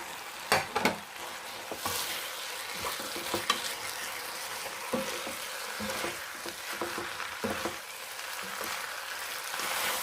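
Bean sprouts, sliced green onion and red and green chillies tumble into a pan of braised duck bulgogi, with scattered clatters and stirring over a steady close sizzle of frying, no talking.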